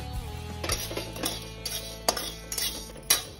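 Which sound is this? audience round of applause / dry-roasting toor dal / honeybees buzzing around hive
dry-roasting toor dal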